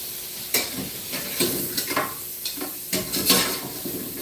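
Big crab sautéing in a pan, with soft sizzling plus several sharp stirring scrapes and clinks arriving in irregular bursts, close and fairly quiet, no voices.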